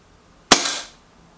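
Single air rifle shot from a Reximex Regime bullpup or Remington Trex, a sharp close crack that rings briefly and fades within half a second, set between stretches of near silence.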